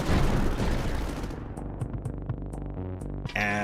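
Ship cannons fire in the Skull and Bones naval game, a dense roaring volley that fades into scattered booms and sharp crackles, loud and near.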